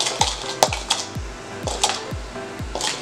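A spoon mixing cinnamon and sugar in a bowl, with a steady series of close, sharp scraping clinks against the bowl at a regular beat, with no talk over it.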